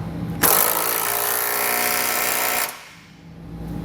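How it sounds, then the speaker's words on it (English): A power tool runs one steady burst of about two seconds, snugging a trailer hitch flange-nut bolt with a 19mm socket during a hitch receiver install on a 2017 Honda; it is loud and close, then stops sharply. "we can come back and snug it down using a 19mm socket"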